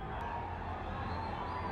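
Crowd at the Milan 2014 sprint race cheering as a steady, distant wash of noise that holds evenly throughout with no single voice standing out.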